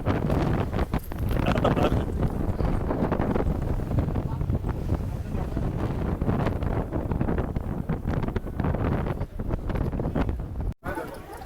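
Strong coastal wind at Kanniyakumari buffets the microphone in continuous loud gusts, a rough rumbling roar that barely lets up for the whole stretch.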